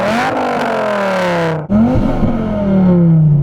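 Loud, close revving from a Dodge Viper engine, two strong throttle blips climbing and dropping in pitch, separated by a short pause, with nothing else over it.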